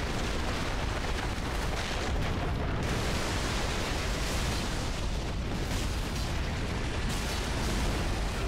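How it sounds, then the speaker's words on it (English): Booming ballista shot explosions in Dark Souls III at Smouldering Lake, a continuous loud roaring rumble of blasts with no gaps, close and overwhelming. "I just got hit by that ballista shot"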